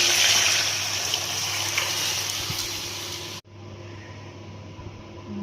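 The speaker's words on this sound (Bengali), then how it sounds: "এখন ডালটা ঢেলে দেব।" Pea lentil dal pours into a hot pan of tempered fenugreek, nigella seeds and green chilli, a loud broad watery gush for about three seconds that cuts off abruptly, followed by a softer steady bubbling hiss.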